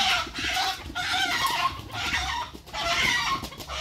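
Chickens cluck repeatedly in bursts at close range, with brief pauses between the rounds of clucking.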